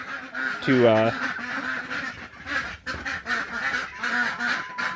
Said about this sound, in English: these ducks are my son's ducks. He sells their eggs on occasion. Aren't those geese beautiful?